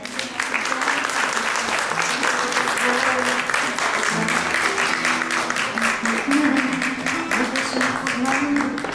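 An audience applauds at a first-grade class's celebration of the alphabet at a school: steady, dense clapping fills the whole stretch while voices carry on underneath.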